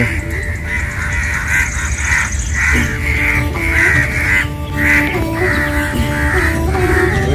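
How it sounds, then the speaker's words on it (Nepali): A flock of crows caws continuously in a large jamun tree, harsh calls overlapping in a busy chorus close by over a constant low hum. "धेरै कागहरू रहेछ"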